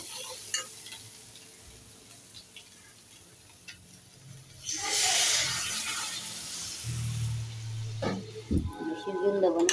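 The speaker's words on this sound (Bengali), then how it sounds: "এখন জল দিয়ে দেবো।" Water poured into a hot cooking pan, a sudden loud sizzling rush after a quieter stretch of faint kitchen clatter, settling into steady bubbling with a few clinks.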